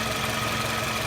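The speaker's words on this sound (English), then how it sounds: "engine's all back together. It's up and running" A Toyota Camry Solara's 2AZ-FE four-cylinder engine runs at a steady idle after maintenance, a close, even low hum with a faint rhythmic pulse and no talk.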